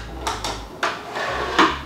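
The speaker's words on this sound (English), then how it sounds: "you guys to make sure the drawer is in first" A small drawer for a shelf lamp slides and knocks into place, making several short wooden clacks and scrapes at close range with brief pauses between them.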